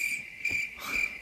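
Crickets chirp steadily in a continuous high trill at moderate level, with no talk over them.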